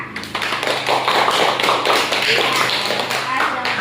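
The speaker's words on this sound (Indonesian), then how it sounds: "Ayo, kita tepuk tangan untuk kelompok A." Classroom students clap together for a presenting group during a lesson, a dense patter of hand claps mixed with voices talking over it for several seconds.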